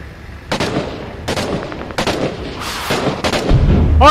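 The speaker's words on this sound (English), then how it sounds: "We are taking sniper fire." Loud sniper and gunfire shots crack out repeatedly, about five or six sharp reports at irregular intervals, amid battle noise during a convoy attack in Six Days in Fallujah.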